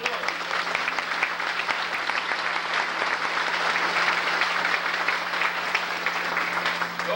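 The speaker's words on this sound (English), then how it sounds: "Let's give them a round of applause." Banquet audience at a 1989 Chamber of Commerce dinner applauding, with a sustained, even patter of many hands at moderate level and a steady low hum underneath, no talking over it.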